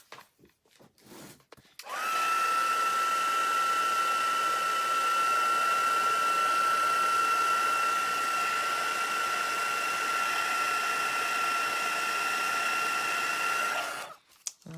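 A heat gun used for heat embossing starts up after a few quiet handling sounds and gives a loud, steady whirring blow with a high whine, running without a break for about twelve seconds before it cuts off.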